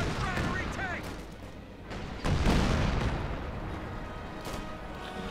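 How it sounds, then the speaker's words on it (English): Artillery fire in a Company of Heroes 2 battle, a couple of heavy booms and blasts amid continuous battlefield rumble, with someone commentating over it. "Looks like an artillery going in there in return."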